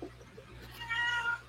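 A big cat meows from near the middle of a room, a single drawn-out call rising over a quiet background hum.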